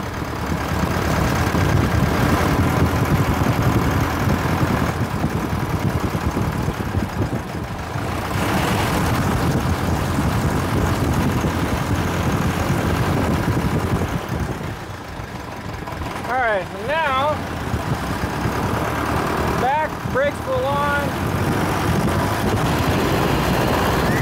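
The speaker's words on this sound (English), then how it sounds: "I'm holding it in there, hoping to get that engine nice and crispy hot." A small airplane's engine runs hard during a long taxi, a loud, steady droning roar that continues throughout while someone talks over it.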